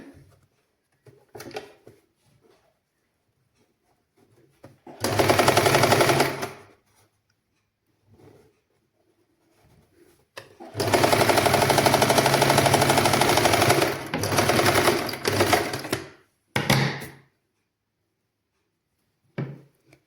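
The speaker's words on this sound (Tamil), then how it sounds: "இங்கே திரும்ப நான் தைச்சு கொண்டு வர போகிறேன்" An electric sewing machine stitching the opening of a nightie in two bursts, one short and one longer, a fast close rattling whir separated by quiet handling noises and faint clicks.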